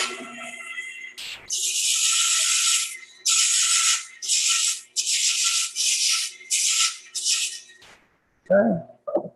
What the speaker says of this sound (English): I'm going to go back to the parting tool now, just to get rid of some of the stuff